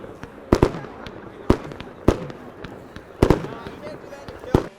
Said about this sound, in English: students gathered on the South Lawn in Nemzik to watch the traditional burning of the M and a breathtaking fireworks display